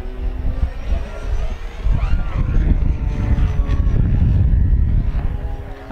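An FMS Ranger radio-controlled model airplane flies at an RC flying event on a windy day, its steady motor hum partly buried under heavy, gusting wind rumble.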